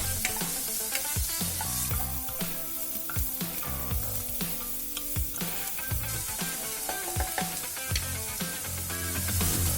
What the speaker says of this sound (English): I am now gonna add some chopped onions.